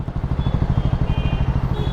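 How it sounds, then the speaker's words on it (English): A Triumph Scrambler 400 X single-cylinder engine idles through a double barrel exhaust, giving a steady, bassy, rapid thumping pulse recorded up close with no talk over it. "The way the engine sounds, it's a double barrel exhaust that you can see out there"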